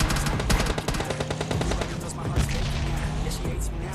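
Rapid automatic gunfire from PUBG Lite gameplay rattles in dense, loud bursts with layered shots throughout, a voice talking faintly underneath.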